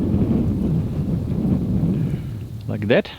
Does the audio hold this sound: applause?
no